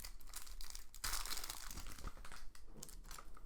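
Packaging of a Star Wars Destiny starter pack is torn open, giving a continuous close crinkle and crackle of plastic wrap with brief tearing bursts and no talking.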